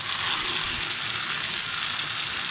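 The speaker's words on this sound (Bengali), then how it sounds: "এখন দিয়ে দেবো আগে থেকে ভেজে রাখা চিকেন আর ডিম" Pre-fried chicken and egg hitting a hot frying pan while making a vegetable chicken, noodle and pasta stir-fry; a loud, steady broadband sizzle fills the whole stretch without a break, with no talking.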